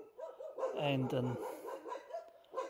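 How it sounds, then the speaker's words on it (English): Street dogs bark close by in a run of several sharp barks and yips, with a person's voice speaking over them at night. "sorry about the street dogs"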